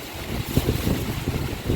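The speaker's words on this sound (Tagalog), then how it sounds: "Ayan, sobrang lakas ng hangin." Strong typhoon wind roars and buffets steadily around a house, a rough, rumbling gusty noise with no talking.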